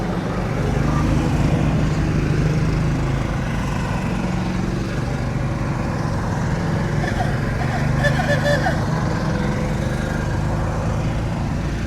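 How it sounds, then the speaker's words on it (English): Classic golf carts motoring past in a parade at The Villages, Florida, a steady engine drone running throughout with crowd noise and voices mixed in. "a couple more of these classic golf carts are coming by right now"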